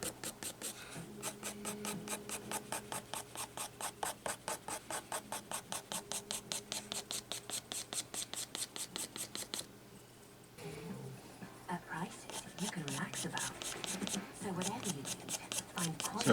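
A pastel pencil draws fine lines of black fur on paper with quiet, evenly spaced scratching strokes repeating rapidly and close, and a voice talks softly over the later strokes.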